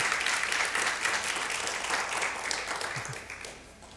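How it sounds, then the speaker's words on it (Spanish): A congregation gives a warm round of applause to first-time visitors at a Spanish-language church service, dense clapping that holds steady before tapering off. "Démonos un fuerte aplauso."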